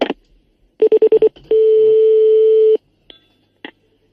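A phone's touch-tone keypad beeps in a quick run of five short tones, then one long steady tone, followed by faint clicks.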